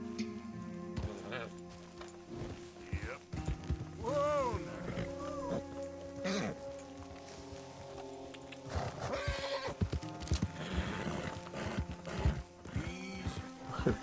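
Horse in the Red Dead Redemption 2 game, with repeated whinnies and neighs over rhythmic hoofbeats and a busy game soundscape, loud and close throughout.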